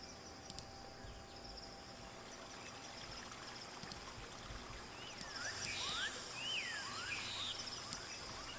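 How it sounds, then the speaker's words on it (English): A jungle stream played as a tabletop game sound effect, with soft, steady flowing water. It is faint and continuous, and scattered chirping calls rise over it in the second half. "Okay, so you do hear flowing water coming up to you."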